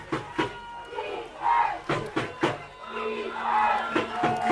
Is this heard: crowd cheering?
yes